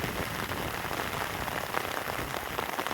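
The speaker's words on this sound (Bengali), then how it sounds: "বৃষ্টির কারণে ভিডিও করতে পারতেছি না, তারপরও বৃষ্টিতে ভিজে ভিডিও করতেছি।" Heavy rain falls steadily and close by outdoors, a dense, unbroken patter of drops hitting surfaces with no voices.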